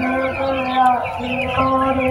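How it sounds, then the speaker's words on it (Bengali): Several broiler chickens on a poultry farm cluck and murmur close by while eating, in a continuous, overlapping chorus of soft calls. "এই যে মুরগিগুলো এখানে খাবার খাচ্ছে সিরিয়ালভাবে"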